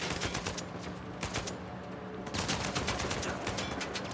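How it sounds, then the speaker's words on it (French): Rapid bursts of explosive-round gunfire in Uncharted 4 crackle loudly and densely, with a brief pause before another sustained volley. "C'était des balles explosives."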